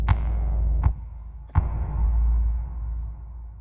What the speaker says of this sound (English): So I'm going to turn up the reverb.